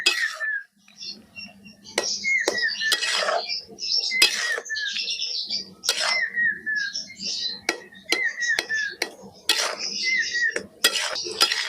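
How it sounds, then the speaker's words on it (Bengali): A spoon scrapes and clinks against a pan while kul (jujube) pickle with jaggery and vinegar is stirred, in repeated sharp metallic strokes with pauses between them and a soft bubbling hum underneath. "আবারও ভালো করে নেড়ে চেড়ে আর 10 মিনিট মতো ফুটিয়ে নেব।"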